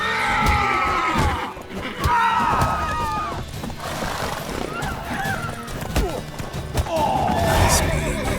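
A horse neighs and whinnies repeatedly in the video game The Witcher 3, loud and close, over a busy backdrop of hoof clops and rustling movement, with voices mixed in.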